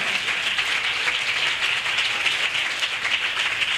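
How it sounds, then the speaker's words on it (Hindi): A church congregation in Pakistan claps steadily, a dense, even wash of many hands applauding continuously at moderate volume with no gaps. "आसमान के खुदा के लिए जोरदार तालियां बजाएं।"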